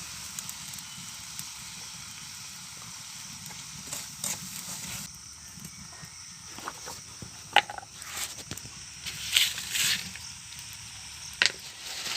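Soft sizzling of ground spices, cumin and garam masala, frying in a pan for mutton curry, with occasional scraping and clinks of stirring, fairly quiet and steady.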